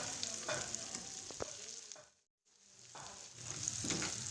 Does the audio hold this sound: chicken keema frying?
yes